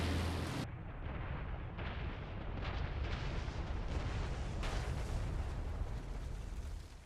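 Bomb exploding in War Thunder against German tanks: a loud sustained roaring blast with dense crackling rumble that fills the whole stretch, staying heavy and close throughout.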